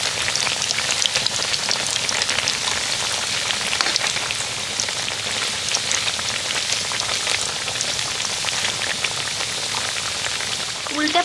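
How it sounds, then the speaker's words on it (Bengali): Crispy wheat flour snacks deep frying in hot oil, a dense continuous hissing crackle like steady rain, loud and close throughout with no talk. "উল্টে পাল্টে খুব সুন্দর করে মুচমুচে করে ভেজে নেব।"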